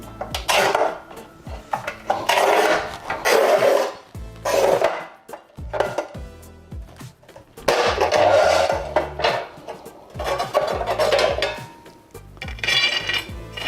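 A Montolit Masterpiuma P5 tile cutter scores a tile, making rough, grinding scrapes in several bursts separated by short pauses, heard close and moderately loud, with clanks of the cutter between strokes.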